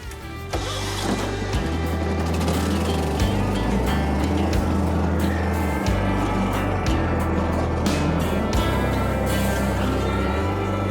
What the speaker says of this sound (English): Compressor.